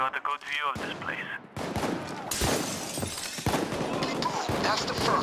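Gunfire erupts in a motel shootout in Payday 2's Hotline Miami heist, loud rapid bursts and single shots cracking over clatter and shattering, with a voice speaking briefly at the start.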